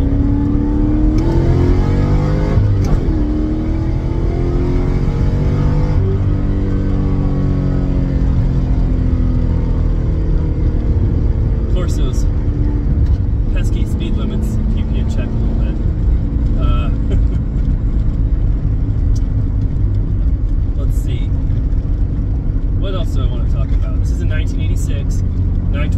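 A 1986 Porsche 928 driven hard, its engine accelerating and revving loudly up through the gears with a steady, close roar throughout, and brief clicks and clatter later on.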